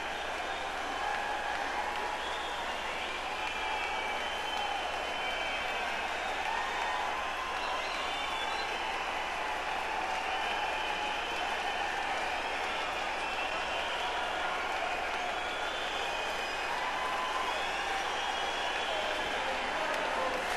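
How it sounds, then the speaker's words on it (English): A wrestling crowd packed into Madison Square Garden in New York City applauding and chanting, a dense, steady roar of clapping and voices filling the arena at a distance, continuous throughout without letting up. "you can hear the crowd here in New York City in Madison Square Garden with the "Where's Your Medal" chants"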